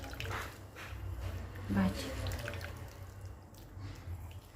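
Water drips and trickles faintly as washed katmata wild leafy greens are squeezed out by hand, with a single spoken word over it.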